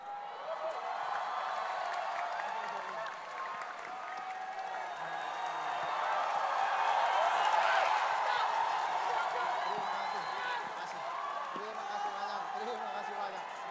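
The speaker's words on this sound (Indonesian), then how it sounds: "Beri tepuk tangan untuk David Nurbianto, Asep Suaji, Abrur Arsyad" A live comedy show audience applauds the performers, with sustained clapping and crowd noise that swells in the middle and then fades slightly, heard from within the hall.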